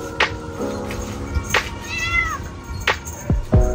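Several cats meow in short, separate calls spread across a few seconds, some high and drawn out, others brief, fairly close by, amid light background noise.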